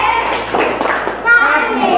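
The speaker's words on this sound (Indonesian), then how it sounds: "Tepuk tangan semuanya." A group claps in a short burst of applause, with children's voices chattering and calling out over the clapping.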